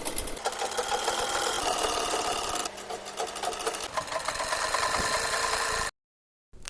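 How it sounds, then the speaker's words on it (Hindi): Sewing machine stitching a sleeve onto a fabric peplum top, a close, fast, steady mechanical whirr with one short pause midway, ending abruptly in silence. "अब हम अपने स्लीव को स्टिच करेंगे।"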